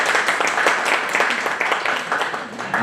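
Seminar audience on financial planning clapping to welcome a speaker, a dense steady patter of many hands filling the room for a few seconds.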